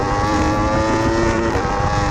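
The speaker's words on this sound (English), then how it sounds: "So on the straight, you accelerate almost until the limiter." A racing motorbike engine holds a loud, sustained high-pitched whine near the rev limiter, steady and close for about two seconds with no talk.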